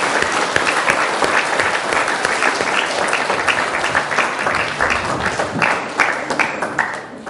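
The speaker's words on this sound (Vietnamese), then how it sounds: "cho tràng pháo tay cho chúc mừng 50 năm" Sustained, dense applause fills a church as a congregation celebrates a 50th anniversary, with many hands clapping steadily and loudly throughout.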